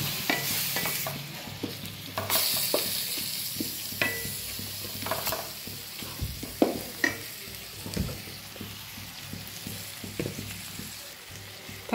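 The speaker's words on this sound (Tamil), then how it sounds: "தக்காளி போட்டு நல்லா கை விடாமல் வணக்கி விடுங்க" Chopped tomatoes fry in a pan for an egg gravy while a spoon stirs them constantly, giving a steady close sizzle broken by frequent scraping knocks against the metal, with no voices.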